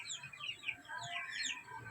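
Backyard chickens clucking after feeding, soft scattered clucks and chirpy calls at low level, fairly close with quiet farm ambience.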